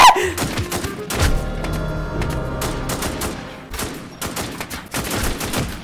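Rapid bursts of gunfire in the zombie survival game Infestation: Thailand, loud and close, with dense clustered shots breaking into several volleys over a few seconds.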